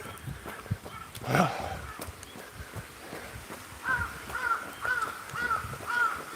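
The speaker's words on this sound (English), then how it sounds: "It's just me and the crows today." Crows cawing at dawn in a Tokyo street during an early morning run: one loud caw near the start, then a rhythmic run of five or six repeated caws at moderate distance over faint outdoor background noise.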